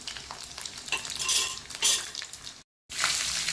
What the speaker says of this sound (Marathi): फोडणीसाठी तेल पण गरम झाले, जिरे मोहरी टाकल्यात